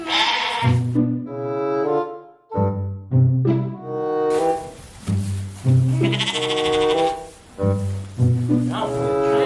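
Farm sheep being moved into a barn for winter bleat repeatedly, loud close calls in several overlapping bursts, some long and wavering, with brief quieter gaps between them.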